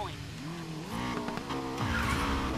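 A car drifts in Need for Speed Payback, its tires skidding and squealing in a rising, wavering screech over a revving engine, loud and close throughout the short burst.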